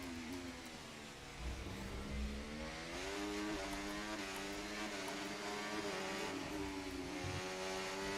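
A Williams Formula 1 car's engine racing around the Monaco street circuit in F1 24, a continuous high-pitched whine that rises and falls in pitch through gear changes, steady and moderately loud with no talk.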